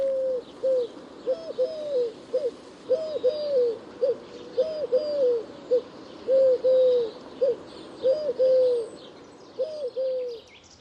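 Repeated soft, hollow cooing phrases from a Eurasian collared dove in a forest, three-note calls coming again and again at a steady pace, with faint higher birdsong in the background.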